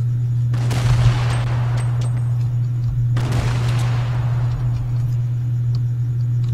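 Two loud gunshot blasts in Fortnite, each a sharp crack followed by a decaying rumble, about three seconds apart over a constant low background hum, no talk.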